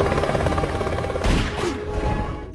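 A helicopter's rotor thumps and whirs loudly nearby during takeoff in the action film 12 Rounds, a steady chopping drone with a brief surge partway through.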